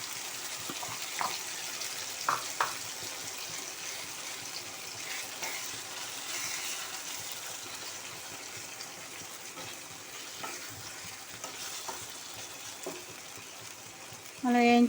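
Ground coriander and poppy seed gravy paste frying in a pan for a brinjal masala curry, a steady low sizzle with faint stirring scrapes throughout, then a brief louder burst at the very end.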